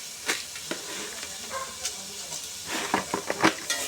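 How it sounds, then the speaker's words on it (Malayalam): Onion frying in a pan with coarse rock salt, a steady low sizzle broken by brief scraping stirs of a utensil against the pan, with the louder clinks and scrapes bunched toward the end. "പിന്നെയും ഇളക്കി കൊടുക്കാം."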